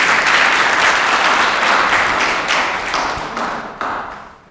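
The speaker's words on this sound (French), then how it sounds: "Vos applaudissements." Loud, dense audience applause at a geomatics conference, a thick continuous roar of many hands clapping close by that gradually thins toward the end.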